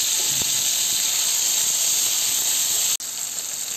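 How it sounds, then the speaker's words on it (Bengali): Potatoes frying in hot oil in a pan, the same oil just used for fish, giving a loud, steady hiss and sizzle close up, with a brief dropout near the end. "মাছ ভাজা হয়ে গেলে ওই একই তেলে আমি আলুগুলোকেও ভেজে নেব"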